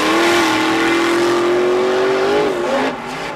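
Monster truck engine roaring during a backflip at a Monster Jam event, a loud sustained high-revving drone holding pitch then wavering and dropping off near the end.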